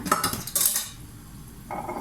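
Food for Turkish street pilaf added to a preheated cooking pot, with a few brief clanks of utensils and pot, close and fairly quiet, no talking.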